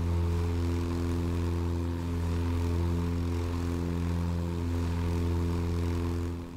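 A propeller airplane engine in Microsoft Flight Simulator, flying a G1000-equipped aircraft, drones steadily and loudly with a strong low hum and layered harmonic tones, continuous throughout with no talk.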